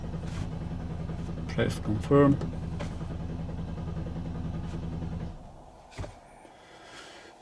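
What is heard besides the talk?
Mercedes-Benz GLK engine starting and revving during diagnostics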